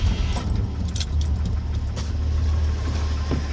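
A 1982 Ford F150 with a one-barrel carburetor engine runs steadily at a close, loud, low idle, with jangling keys over it near the start and no talking.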